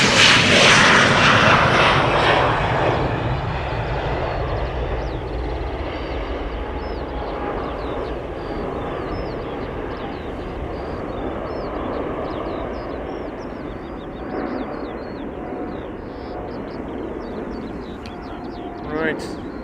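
A Turkish Airlines Boeing 777-300ER takes off from Polderbaan, its engines roaring loudly at first and then settling into a long, fading rumble as it climbs away, with a commentator speaking over it.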